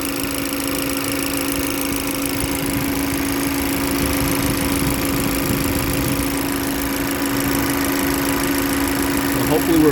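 A Chevy engine with a P0014/P0017 timing fault idles steadily after a vacuum pump repair, giving a constant even hum with a faint ticking texture, recorded close up for the full length.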